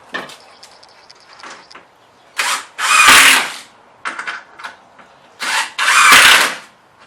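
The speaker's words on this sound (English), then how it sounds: "Now I can drive all the rest of the screws home, because everything is now locked in place." A power drill drives screws into wooden model railway layout legs: two paired bursts, each a short whir followed by a longer loud grinding drive, with quiet handling and clatter in between, close by.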